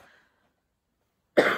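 A single short, harsh cough bursts out close to the microphone after a near-silent pause, preceded by a faint trailing sound.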